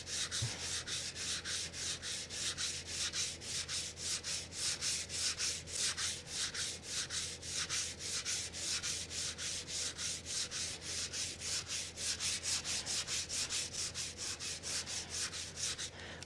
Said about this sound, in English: I actually can feel the ridge here through the sandpaper, so I'm going to have to be a little bit more aggressive with that.